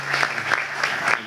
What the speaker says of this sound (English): let's give him a round of applause and thank him for joining us this morning